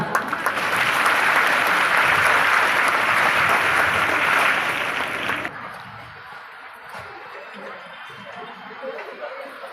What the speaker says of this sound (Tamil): கேட்கும் கைத்தட்டலின் சத்தம் இவ்வளவுதானா